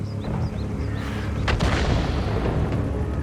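Constant rumbling tank engine noise in a World of Tanks-style battle on the Karelia map, with a deep boom of distant artillery fire in the middle, plus faint chirping tones early on.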